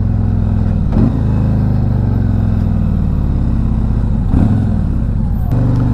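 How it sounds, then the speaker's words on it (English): Steady low engine rumble of a 2024 Harley-Davidson Tri-Glide Ultra motor trike engine braking, smooth and droning, with a couple of brief bumps along the way. "Very smooth engine braking."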